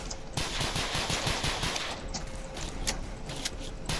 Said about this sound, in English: He's shooting the cameraman!